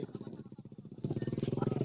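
A motorcycle engine chugs nearby with a steady, rapid pulsing beat that grows louder and more forceful partway through.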